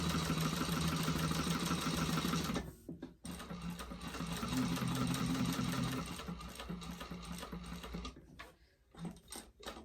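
A sewing machine bastes a narrow 1/8-inch seam on a convertible backpack, running in long steady bursts close by, with brief pauses and a pivot where the needle stops before stitching resumes.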